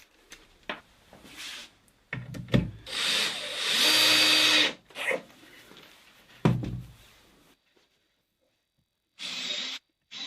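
Self-tapping SPAX screws for MDF are driven with a power drill into a small MDF cabinet frame, giving several close whirring bursts of varying length with brief pauses between them and a short final burst.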